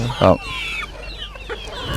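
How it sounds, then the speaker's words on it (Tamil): Young roosters on a farm in Canada cluck close by, one loud short cluck followed by softer chirping and clucking calls. "இப்போ வர இந்த இவையெல்லாம் சின்ன சேவல்கள்."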